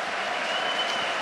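Stadium stands at a Champions League qualifying football match between Trenčín and Steaua break into applause, a dense, steady wash of clapping from a large crowd that fills the whole short moment.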